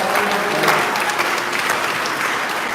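An audience at a National Parents' Day honors event breaks into a steady round of applause, even clapping filling the whole stretch without voices on top.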